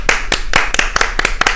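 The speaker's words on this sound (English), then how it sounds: "claps and snaps for the audience" A few people clap for an audience in a podcast studio, a quick run of close, loud, sharp claps in a fast uneven rhythm.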